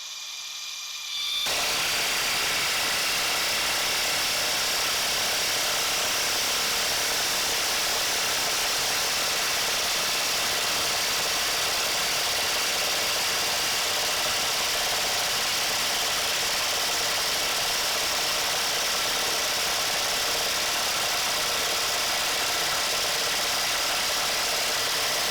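Bosch 1800C impact driver on low speed drives 10-inch screws into treated 6x6 timber with a loud, continuous, rapid hammering buzz. It starts suddenly after a brief quiet moment and runs without a break.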